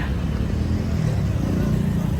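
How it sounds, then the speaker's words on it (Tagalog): Steady low rumble of road traffic on a busy street in Davao City, with vehicles passing continuously nearby, engines droning without pause. "marami kasi mga dumadaang sasakyan"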